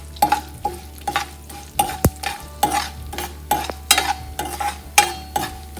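Chana dal and urad dal fry in a pan: a soft sizzle with a run of regular scraping stir strokes, close and fairly loud, plus one sharp metallic knock partway through, with no speech.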